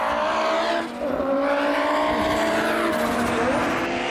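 An Audi S2 super saloon race car runs flat out at full throttle, its engine a loud, sustained high-pitched drone held close and steady, with a brief dip early on before the roar climbs back.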